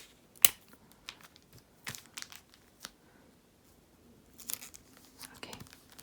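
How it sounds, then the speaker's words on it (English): Plastic wrap being taped down around a signed album, with sharp crinkles and tape-tearing snaps: one loud crackle early, then scattered softer rustles and a cluster of crinkling near the end, close and quiet, no talk. "Now I'll just tape this down."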